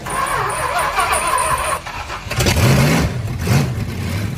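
A Chrysler 440 V8 with a Thermoquad carburetor cranks and fires, catching about halfway through and settling into a loud, rough idle with rising revs, heard up close and with no talking.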